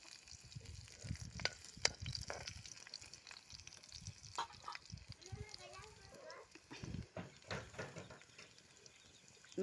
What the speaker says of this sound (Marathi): तेल गरम झाले की आपल्याला त्याच्यात लसूण घालून घ्यायचं आहे.